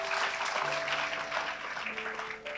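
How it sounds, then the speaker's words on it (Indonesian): A congregation bursts into enthusiastic applause during an Indonesian-language Passover sermon, a dense, steady round of clapping with faint sustained musical tones underneath. "Yang setuju berikan tepuk tangan yang paling meriah"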